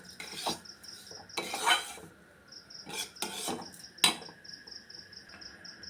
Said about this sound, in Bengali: একটু নেড়ে চেড়ে নেব